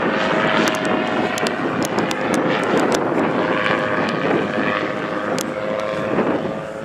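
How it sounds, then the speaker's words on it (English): A loud, steady engine and propeller drone of a Calidus autogyro in flight at an airshow display, with wind buffeting the microphone throughout. "As George was describing, there are far fewer moving parts in the Autogyro than the helicopter"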